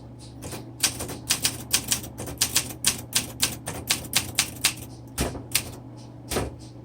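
Keystrokes on a 1961 Olympia SM7 manual typewriter, about twenty crisp clacks in a quick, uneven rhythm with a brief pause and a couple of final strikes, close and clear over a low steady hum.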